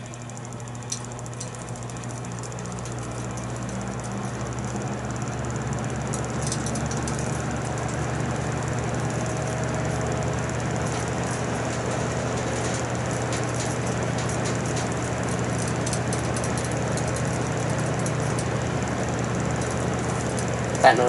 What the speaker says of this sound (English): You get to hear the symphony of these two fan blades as they run.